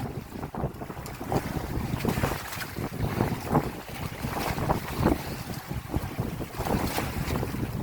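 Rough sea waves slap and wash around a small motorboat out along a coastline, with heavy wind buffeting and a continuous churning roar, loud and close, with no talking.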